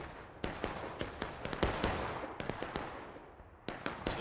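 Musket fire on the Bloody Lane battlefield in a Civil War video game, scattered sharp cracks from distant volleys rolling across a continuous rumble of battle, some shots clustered close together, others isolated.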